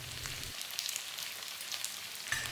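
Pork belly stir-fried with salted fish and spices in a hot wok, giving a steady soft sizzle with light crackle and faint scraping, fairly close and moderately quiet with no voices.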